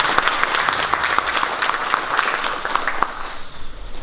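Audience applause at a traffic police event in Mielec, steady and fairly loud clapping from a crowd that thins out toward the end, with no talk over it.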